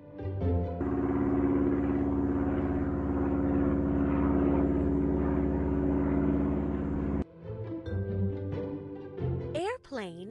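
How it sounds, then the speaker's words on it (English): Airplane in a children's alphabet cartoon, a loud steady engine drone sustained for several seconds, then cutting off abruptly into brighter whooshing and chiming effects. "Airplane is a vehicle designed for air travel that has wings and one or more engines"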